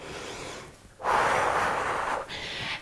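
Deep, forceful breathing during an at-home power walk workout: a loud, breathy rush of air lasting about a second, then a softer, higher exhale, heard up close with no talking.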